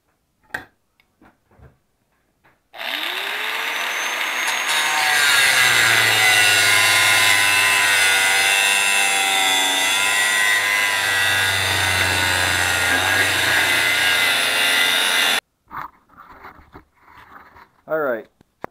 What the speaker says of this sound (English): That was my grinder.